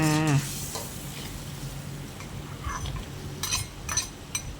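Golden needle mushrooms go into a sizzling pan of tilapia basil stir-fry, and a steady close frying hiss follows, broken by scraping stirs and light metallic clinks of a utensil.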